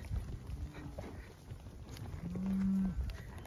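A cow from a cow-calf pair lets out a single low moo out on open range during a cattle drive, moderately distant and fairly faint over outdoor background noise.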